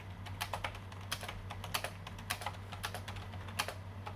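Someone types on a cheap $10 Five Below gaming keyboard, producing a quiet, irregular run of close, clicky keystrokes over a low steady hum.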